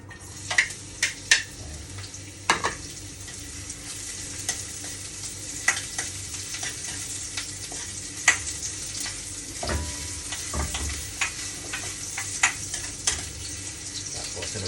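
Sliced ginger frying in oil in a pan for dinuguan, a steady crackling sizzle with occasional sharper pops and stirring clatters, close and moderately loud with no voices.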